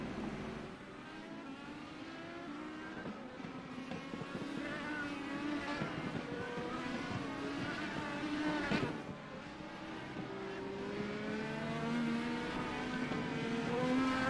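IndyCar race car pulling out of pit lane at Knockhill Racing Circuit, engine droning steadily and rising in pitch with a continuous loud whine, with no other sounds over it.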